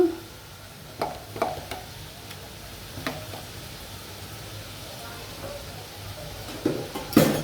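Chicken kofta masala sautéed and stirred in a pan with a little sour yogurt added, a steady soft sizzle under scattered scraping clicks of the spoon against the pan.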